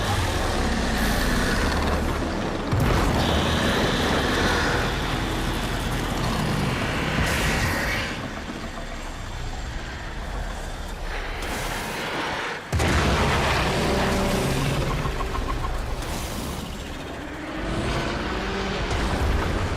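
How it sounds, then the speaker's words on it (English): An explosion in the Warframe sci-fi game, with heavy booming blasts and deep rumbling that surge and fade in waves, sharp loud onsets near the start and middle, over a dense, roaring background. "There should be useful detritus falling from the explosion."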